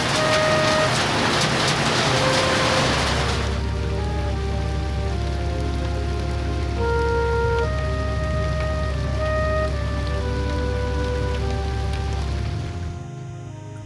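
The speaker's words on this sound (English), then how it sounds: "The rain's coming down." Heavy rain pours down at a guest house in Tandiani, a dense close hiss for the first few seconds before it gives way to a steady low drone with scattered tones.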